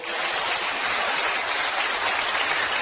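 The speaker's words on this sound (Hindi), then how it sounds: "आप जोरदार तालियां बजाइए" An audience claps and cheers at a motivational business talk, the applause dense, steady and loud throughout without a break.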